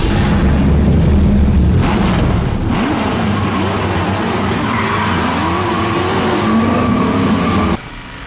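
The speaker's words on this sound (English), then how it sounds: "Like listen to the engine." A powerful car engine in a jeans commercial revs and climbs in pitch with a tire-squeal edge, loud and close throughout before cutting off abruptly near the end.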